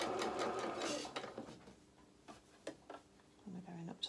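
A sewing machine stitches a quarter-inch seam on a small shirt, running in quick bursts of close mechanical ticking that start and stop; a voice can be heard faintly.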